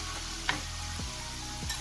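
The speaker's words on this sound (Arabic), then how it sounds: "ها هي البصله ديالنا، نحرمها شوية" Onion fries in a pan with a dense, even close sizzle, broken by a couple of short scrapes and knocks as it is stirred.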